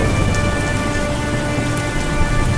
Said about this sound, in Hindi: ये तो काफी तेज बारिश शुरू हो गई